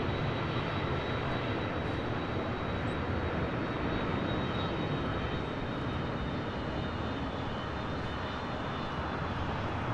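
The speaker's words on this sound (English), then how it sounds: "the Korean Air A380 now rolling on 24 left. It's flight 18 taking off to Seoul." A Korean Air Airbus A380 rolls for takeoff on runway 24 left at LAX, a loud, unbroken engine roar that stays steady and dense from start to finish, with no talking.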